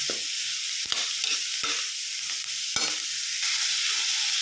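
Beetroot for chutney sautéing in a pan: a loud, continuous close sizzle with a few sharp scrapes and taps of a spoon stirring through it, and no voices.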